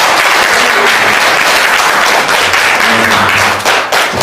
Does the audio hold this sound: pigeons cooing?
no